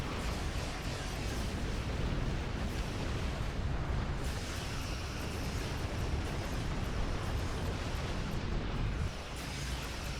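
Continuous dense explosions and weapons fire during a Star Trek Online space battle, a loud, unbroken roar of booms and blasts filling the whole stretch.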